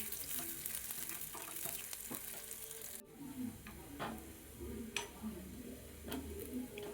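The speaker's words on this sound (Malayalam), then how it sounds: "ഒരു 3-4 ചുവന്നുള്ളി അരിഞ്ഞത് ഇട്ട് ഒന്ന് മൂപ്പിക്കാം" Chopped shallots fry in coconut oil with a soft, steady sizzle and occasional stirring taps, faint overall, changing slightly in tone partway through.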